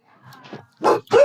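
A guard dog barks twice in quick succession after a few soft whimpering yips, close and loud, with no talk over it.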